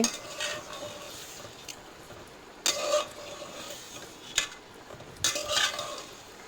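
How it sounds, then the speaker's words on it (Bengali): A spoon stirs chicken pieces from a layer hen in a cooking pot, giving several separate scraping, clattering bursts a second or two apart over a low background hiss, close up and with no speech. "গুস্ত দিয়ে দিলাম তো এখন নাড়াচাড়া করে দিচ্ছি"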